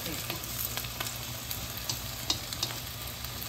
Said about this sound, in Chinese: 所以另外一面再给它煎一下